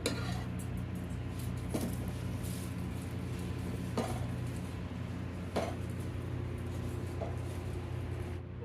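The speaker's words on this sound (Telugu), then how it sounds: "రైస్ వేసి మంచిగా కలపాలి." Soaked everyday household rice, not basmati, tipped into a pot of spiced paneer pulao masala and stirred, giving steady scraping and rustling with occasional light clinks of a spoon against the pot, close and moderately loud throughout.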